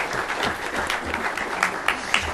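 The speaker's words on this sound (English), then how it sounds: "I'll ask for another round of applause for these participants" A short stretch of applause from a conference audience, steady clapping with a few sharper bursts toward the end, no talking.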